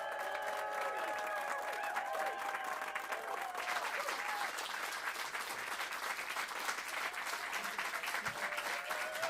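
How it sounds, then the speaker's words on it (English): A studio audience applauds for Pete Yorn, a steady wash of clapping with scattered whoops and cheers that continues evenly for the whole stretch. "let's have a round of applause for Pete"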